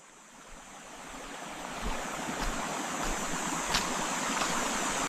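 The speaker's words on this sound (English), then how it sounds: "This is another example of her walking through a forest with the sound of a creek running by." AI-generated forest creek running steadily, a continuous broadband rush of flowing water that swells slightly louder over the clip, with no voices.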